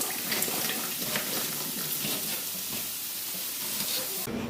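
Sausage and onion fry in a pan with a steady, close sizzling hiss that runs unbroken throughout, with a brief change in texture right at the end.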